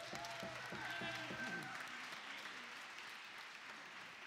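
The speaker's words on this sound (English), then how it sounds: "One more round of applause for those musicians." An audience at a university big band concert claps steadily in a sustained round of applause for the musicians that slowly tapers off, while a few faint musical notes ring at the start.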